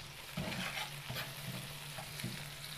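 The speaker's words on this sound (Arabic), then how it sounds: "بقلبه كده عشان كله يتحمر زي بعض" Onions fry in a pan for Egyptian bessara, a steady close sizzle broken by soft, regular scrapes and turns of a stirring spoon, with no talking.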